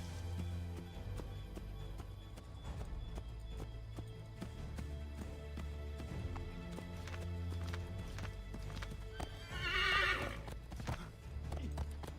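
Horse hooves clip-clop in a rhythmic gallop in the video game Assassin's Creed 3, with a loud whinny near the end over a low ambient hum.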